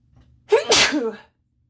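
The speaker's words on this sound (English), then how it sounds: "I need to sneeze." A single close, loud sneeze with a short breathy lead-in and a sharp burst, followed by silence.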